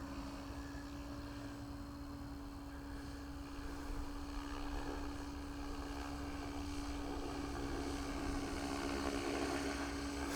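A steady, droning whine with rotor hum from a 500-size Tron 5.5 RC helicopter in flight runs continuously, slowly building in intensity, heard at a moderate distance without any talk.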